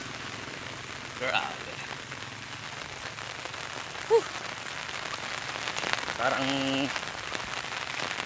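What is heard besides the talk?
rain falling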